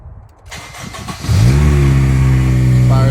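A car engine cranks briefly, catches and roars up into a revving idle, loud and close, settling into a steady rumble.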